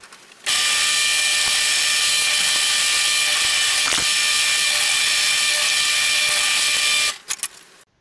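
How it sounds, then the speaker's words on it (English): A steady, loud high-pitched drill whine runs continuously for several seconds while drilling into wood, then cuts off abruptly with a few short bursts at the end. "I got rid of most of the material with the drill"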